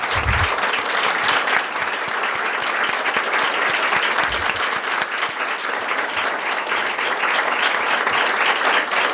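A room of guests at a scholarship award ceremony claps strongly and continuously, a thick even patter of many hands at close range with no break, with a couple of soft low thumps underneath.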